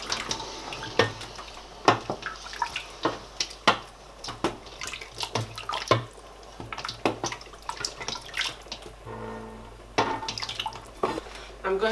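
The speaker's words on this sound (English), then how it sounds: "I'm going to add water." Water poured into a pot of tomato stew with chicken for Nigerian spaghetti jollof, a close splashing and trickling with scattered clinks of cookware throughout, heard alone without talk.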